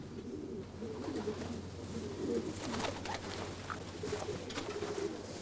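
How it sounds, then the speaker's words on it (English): A pigeon in a loft coos in soft, repeated low rolling phrases, fairly close, over a steady low hum and faint background rustle. "A pigeon flew into the loft"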